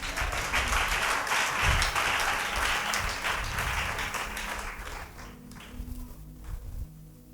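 A congregation applauds together in a church service, a dense, loud wash of many clapping hands that keeps going and slowly thins toward the end.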